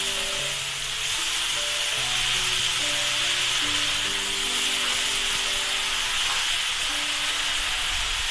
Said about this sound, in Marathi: खालून वरून चांगली भाजून घ्या।